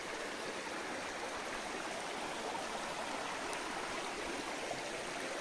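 A hill stream fed by a waterfall runs through a remote valley ringed by hills in Dhenkanal district, Odisha, a continuous even rush of flowing water with soft gurgling, steady and unbroken.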